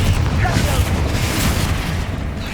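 A Confringo blasting spell explodes in a Harry Potter video game, a loud, deep rumbling boom that rolls on and slowly fades across the whole moment.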